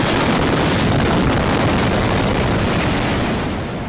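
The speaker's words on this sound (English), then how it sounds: "the Lebanon explosion on August 4th, only 300 meters away from the port of Beirut where the blast happened" The Beirut port explosion of August 4 comes through as a sustained, loud, broadband roar that fills the whole clip, a blast rumble with no voices, fading slightly at the end.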